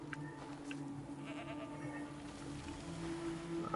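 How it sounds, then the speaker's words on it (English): A sheep in the game Divinity: Original Sin II gives a wavering bleat at low level, heard against a quiet, droning game backdrop. "Shocked sheep."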